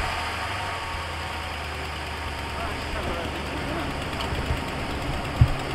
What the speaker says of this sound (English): I got a new exhaust for it. I think it sounds pretty cool.